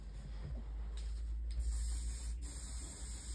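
An aerosol spray can hisses onto a colouring page in a quiet room, with short puffs followed by a longer steady spray that stops sharply.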